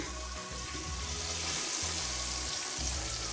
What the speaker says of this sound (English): We're gonna go ahead and flip over our pieces of meat and let them get to browning on the opposite side